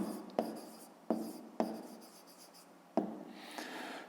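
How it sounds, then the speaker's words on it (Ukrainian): Handwriting on paper while working a fifth-grade math exercise, soft close scratching pen strokes with a few sharp taps as the pen touches down, four or five short bursts over a few seconds, no talking. "Пишемо відповідь."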